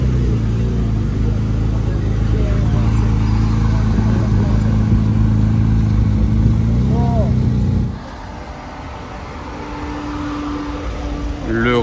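New Porsche GT4 RS driving off, a loud close engine rumble that holds steady and then drops away, with people talking throughout.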